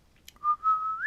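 Squeaky, tooting whistle heard as a single thin, sustained tone lasting under a second and rising slightly at the end, after a soft click; a voice may be imitating the whistle of air through a bone.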